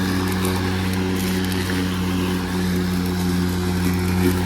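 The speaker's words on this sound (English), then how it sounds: "I'm gonna go mow my lawn a little bit. Grass is a little damp." An EGO 21-inch battery push mower cuts damp, weedy lawn grass with a loud, constant electric motor and blade hum that holds steady throughout, heard up close with no talking.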